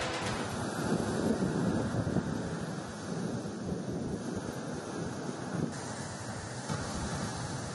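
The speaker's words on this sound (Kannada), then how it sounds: "ಕಳೆದ ಕೆಲ ದಿನಗಳಿಂದ ರಕ್ಕಸ ಗಾತ್ರದ ಅಲೆಗಳು ಏಳುತ್ತಿದ್ದು ತೀರದ ಜನರು ಬೆಚ್ಚಿ ಬೀಳುವಂತೆ ಮಾಡುತ್ತಿದೆ" Huge monsoon sea waves crash steadily against the Karwar shore in heavy rain, a loud continuous roar with gusting wind buffeting the microphone and no voices.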